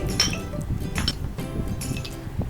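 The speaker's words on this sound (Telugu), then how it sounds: "ఐస్ క్యూబ్స్ 3 క్యూబ్స్ వేసుకుంటున్నాను" Three ice cubes clink into a glass of rose falooda with rose syrup and powdered sugar, giving a few sharp, close glassy knocks over a low background rumble.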